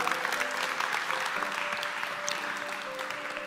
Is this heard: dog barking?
no